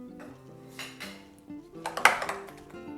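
A spatula spreads and levels red halwa in a metal dish, giving soft scraping clinks of utensil on metal, a few light knocks and one sharper clink near the middle, close up with no talking.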